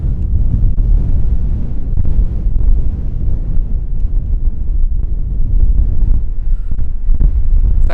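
Strong wind sweeping over coastal dunes at Biville, buffeting the microphone with loud, heavy low-frequency rumbling gusts that pulse unevenly throughout, close and dominant with no voices.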